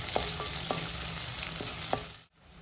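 Onions and curry leaves sauté in a pan for kappa mezhukkupuratti, giving a loud, even sizzle with several light utensil taps and scrapes before the sound suddenly drops away.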